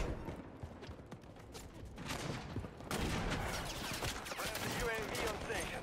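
Rapid gunfire in a hardcore Call of Duty Modern Warfare III match, with irregular clusters of shots that swell into dense continuous firing midway, mixed with other game noise and some talk.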